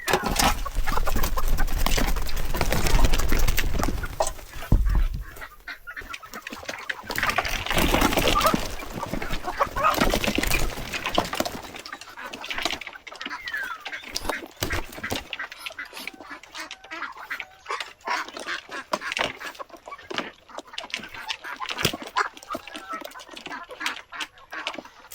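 Native, Muscovy and Pekin ducks and chickens clamor at feeding time, loud overlapping quacks and clucks close by, the noisy crowd gradually thinning to scattered calls and rustling.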